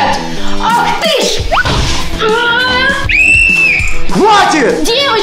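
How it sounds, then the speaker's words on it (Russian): Girls scream during a fight, loud shrill cries and wails mixed with rapid shouting and scuffling thumps, everything close and frantic. "я слышал крик, что-то случилось?"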